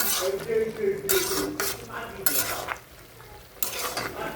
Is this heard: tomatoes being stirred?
yes